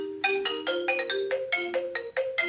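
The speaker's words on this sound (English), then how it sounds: "Xylophone." An iPhone ringtone played on xylophone: a crisp, bright sequence of short struck wooden-bar notes in a lively, even rhythm, close and unaccompanied.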